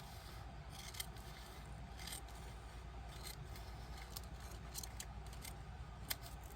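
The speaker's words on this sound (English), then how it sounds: "So I'm just going to carefully come in with my scissors and trim just the littlest edge of that" Scissors trim the edge of a card for a shabby chic handmade journal, making a steady run of soft close snips and rasping cuts with no talking.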